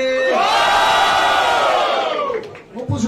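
A rap battle crowd roars in a loud, sustained whooping cheer for about two and a half seconds, then dies down as a voice comes in near the end.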